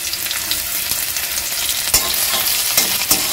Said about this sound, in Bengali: আমি 2 মিনিট মতো নেড়েচেড়ে মশলাগুলো একটু ভেজে নেব।